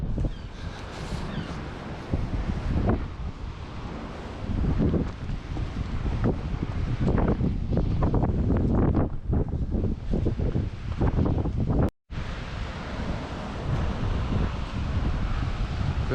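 Strong wind buffets the microphone on the Angus coast of the North Sea in stormy conditions, a loud roaring rumble that gusts up and down and drops out for a moment before resuming.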